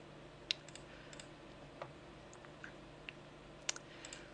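A few sharp, quiet mouse clicks spaced out irregularly while choosing windows on a Linux desktop, over a faint background hum.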